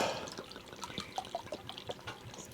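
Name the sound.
liquid being poured while cooking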